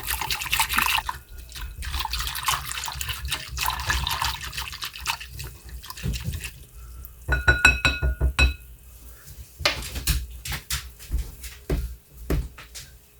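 A spoon stirs Jell-O mix into a cup of boiling water in a glass bowl, giving irregular clinks and scrapes against the glass with watery swishing and short pauses between bursts.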